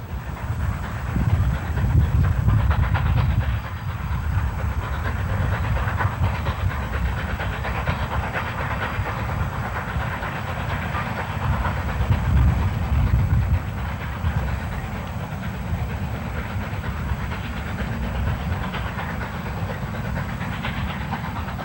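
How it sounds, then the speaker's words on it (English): A narrow-gauge steam train from Antonito climbs west toward Cumbres through the arid San Luis Valley. Its steady hissing chuff and rolling rumble carry on without a break, at moderate volume and with no voices. "the Antonito train is making the long westward climb toward Cumbres"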